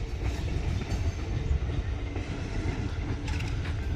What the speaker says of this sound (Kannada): ಟ್ರೈನ್ ಏನೋ ಲೋಕಲ್ ಟ್ರೈನ್ ಹೋಯ್ತು.